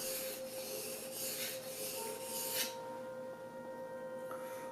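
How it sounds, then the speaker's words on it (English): A chisel rubs back and forth on a rough sharpening stone with a faint, gritty rasping in several even strokes, then fades to quiet near the end. "once you use the rough stone, it dulls out the shiny edge here."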